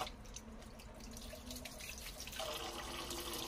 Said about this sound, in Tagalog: ito po ay babanlawan natin ng 4 o 5 beses or hanggang sa maging malinaw po yung tubig